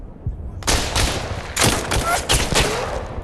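Several sharp gunshots from the VR shooter game Tactical Assault VR fire in quick succession, loud and close, each with a rough trailing tail.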